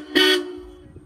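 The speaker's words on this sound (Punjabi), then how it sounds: "ਹਾਰਨ ਵਜਾ ਕੇ ਦਿਖਾਵਾਂ" One short, loud honk comes from a vehicle horn with freshly done wiring. It is a single close toot lasting about a quarter second, followed by quiet.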